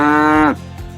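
A cow gives one loud, close moo with a strong harmonic tone that holds for about half a second, then falls away sharply, followed by a faint low grunt.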